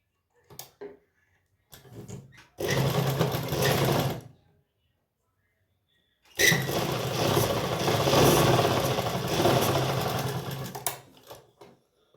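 A sewing machine stitches a heavy Patiala salwar in two bursts, one short and one longer, each a close, steady mechanical whirr, with near silence and a few soft handling sounds between them.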